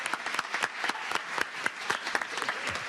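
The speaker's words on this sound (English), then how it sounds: "We can clap for our young folks." Applause from the audience at a city council public hearing, offered for young people in attendance, with a scattered crowd clapping steadily and moderately loud for a few seconds and no voices over it.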